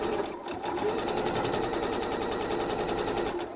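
A sewing machine runs continuously, stitching a roughly made fabric bag during a quilting class, giving a fast, even mechanical chatter that stays loud and close without a break.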